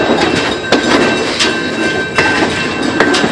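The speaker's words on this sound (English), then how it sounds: "Train slowing down. Real slow. It's like walking speed now." A freight train rolls slowly at walking pace, with rhythmic clattering wheel clicks and a steady high metallic squeal, heard close from aboard the car.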